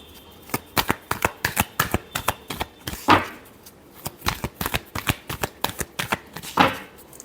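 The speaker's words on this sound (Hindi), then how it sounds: "Last shuffle." Playing cards riffled and shuffled in a quick run of crisp, fluttering bursts, with a couple of longer riffle sweeps, close and clear with no talk.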